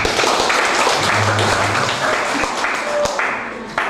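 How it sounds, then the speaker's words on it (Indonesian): Wedding guests clap after the first kiss at a church ceremony, a loud, close burst of applause with a few sharp individual claps, fading slightly toward the end. "Oke, bisa kita tepuk tangan."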